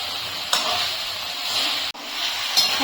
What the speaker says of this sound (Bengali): এখন আমি আলু ফুলকপিটা ভিতরে দিয়ে দিচ্ছি আলু ফুলকপিটা দিয়ে দু তিন মিনিট কষিয়ে নেবো